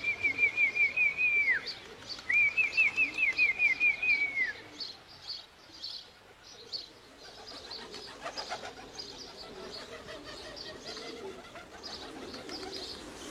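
Racing pigeons coo in rhythmic, warbling bursts, two clear runs early on, followed by softer bird calls and chirps amid an outdoor background in France.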